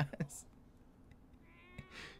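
A cat meows twice in an anime, once with a short cry and later with a longer, rising meow, both heard faintly under a man's reaction chatter.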